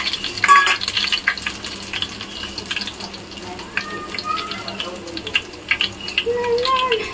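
Bay leaf, black pepper and cloves frying in a pan for Marathi-style matar pulao, a steady crackling sizzle with light clinks of stirring and brief splashy bursts, fairly close and moderately loud.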